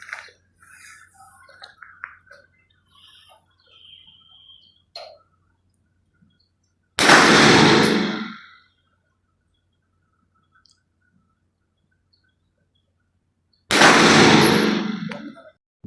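Two loud, sharp gunshots from a CZ Scorpion Evo 3 fitted with a red dot sight, fired during zeroing at a range, spaced several seconds apart with quiet gaps between; faint talk is heard before the first shot.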